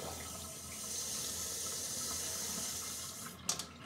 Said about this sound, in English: it's almost like a laminar flow you get out of this tap